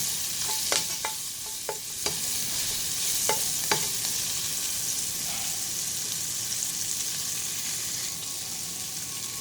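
Ingredients for coconut kangkong with shrimp sauté in a hot pan, a steady hiss of frying broken by a few sharp clinks of a spatula stirring early on, then continuous sizzling alone.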